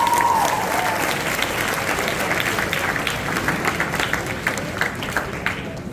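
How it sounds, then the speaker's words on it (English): A large audience at a school prize day gives a sustained round of applause for the top students, with dense, steady clapping that fills the whole stretch and no speech. "Can we have a huge round of applause for all of them"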